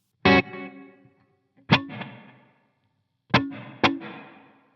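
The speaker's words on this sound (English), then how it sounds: "So those are the only effects you're hearing as far as delay and reverb." Plucked electric guitar notes and chords ring out in sparse bursts, each trailing into digital delay repeats and a spacious wash of Big Sky hall reverb.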